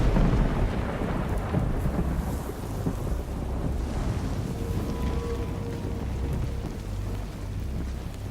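Rain and thunder effects from a Naughty Dog video game; a continuous heavy downpour with deep rolling thunder rumbles and gusty wind, steady and fairly loud, with no talking.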